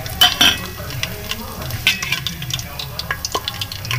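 Tadka spluttering in hot fat in a pan, a close, crackling sizzle with sharp pops and a few clinks of a spoon stirring against the pot.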